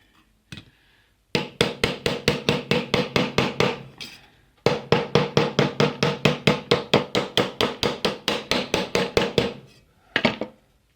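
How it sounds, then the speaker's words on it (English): Metal speaker bracket for a custom car dash mount being hammered flat, with two long runs of quick, evenly spaced ringing blows, a brief pause between them, and a few stray knocks at the start and end. "we're going to turn it over and hammer it down from this side"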